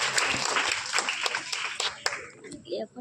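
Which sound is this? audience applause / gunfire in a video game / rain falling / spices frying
audience applause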